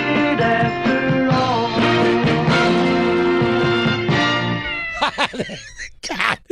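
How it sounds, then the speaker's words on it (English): A cat meows repeatedly in clear, drawn-out tonal calls over a steady background, followed by a few shorter broken cries near the end. "God, I get a kick out of that cat"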